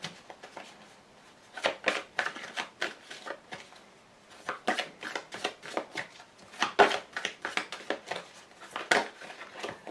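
Lenormand fortune-telling cards being shuffled and drawn, a close, quiet series of crisp flicks and riffles in irregular clusters, with short pauses between handfuls.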